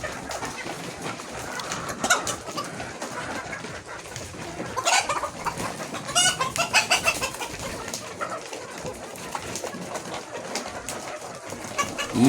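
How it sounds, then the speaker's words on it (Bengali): Laying hens in a poultry shed cluck and call continuously, a dense, busy chorus of many birds at close range with overlapping squawks and no talking. "অন্য একটি শেডে ফার্মি জাতের আরও 300 মুরগি ডিমের জন্য তৈরি করা হচ্ছে।"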